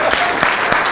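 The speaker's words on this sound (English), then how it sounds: "Round of applause, folks." An audience claps at a talk on speaking clearly, a short dense burst of applause with a few sharper claps standing out.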